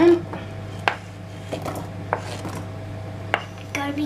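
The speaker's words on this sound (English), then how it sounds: "I will just chop the chicken down a bit because it's in quite big chunks" Knife chopping chunks of chicken on a board in a home kitchen, a few sparse, sharp taps spread out irregularly, fairly close with a steady low hum underneath.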